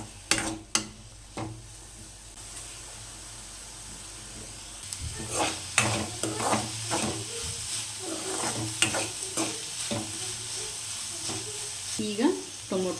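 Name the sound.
onions with salt frying and being stirred in pan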